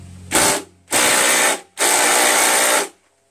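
A ratchet fitted with a 3/8 socket loosening bolts on an MTD Yard Man single-stage snow blower, with three loud bursts of rapid clicking from close by, the last one longest.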